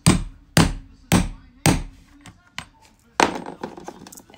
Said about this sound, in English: the grommet punch and a hammer.